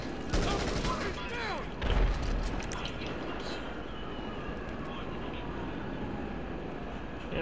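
Hydra jet in GTA firing missiles, a rapid burst of sharp blasts early on with a heavier explosion near two seconds, then a steady roaring engine and rumbling battle noise beneath.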